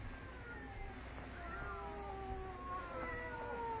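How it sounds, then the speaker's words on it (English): Several cats meow and caterwaul in long, wavering, drawn-out cries that overlap one another, heard fairly close in a quiet house over a low background hum. "They're not ordinary cats. Listen to them."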